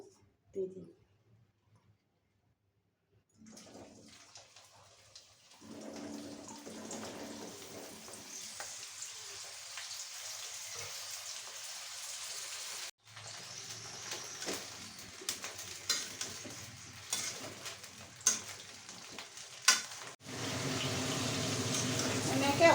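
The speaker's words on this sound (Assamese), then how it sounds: "এয়া মোৰ তেল গৰম হৈ আহিছে।" Jujube fruits, about a kilogram, frying in hot oil on a low flame for a spicy sour pickle, giving a steady close sizzle and bubbling that grows louder toward the end, with a voice talking over parts of it.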